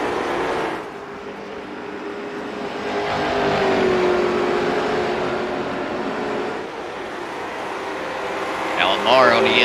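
Late model stock cars racing at IRP (Lucas Oil), engines droning steadily and rising in pitch as the pack runs laps, with a commentator talking over the continuous motor roar.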